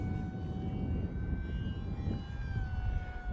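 Esky Eagle 1100mm RC trainer airplane flying overhead, a steady buzzing motor whine with faint shifting tonal lines over constant wind-like rumble, moderately distant and continuous throughout.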